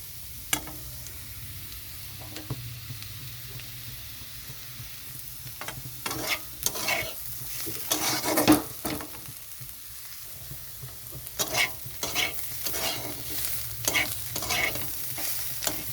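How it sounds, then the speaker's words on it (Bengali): Bottle gourd peels fry in a pan over high gas, a low steady sizzle broken by repeated scraping stirs from a spatula, clustered in bursts. "এখন গ্যাসটা বাড়িয়ে দিয়ে ভেজে নেবো ভালো করে"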